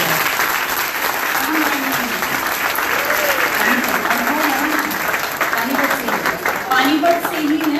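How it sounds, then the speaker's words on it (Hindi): A class claps loudly and continuously, a thick wash of many hands that never lets up, while a voice talks over the applause throughout. "क्लास में 2000 तालियां बजाओ।"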